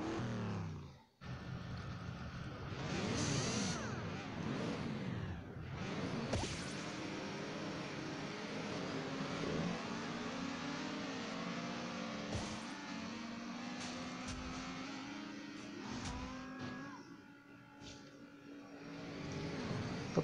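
Engine whine and whooshing from buggies racing in the mobile game Beach Buggy Racing, with rising and falling motor pitches, sharp swishes and impact hits running continuously for the whole stretch, no voices.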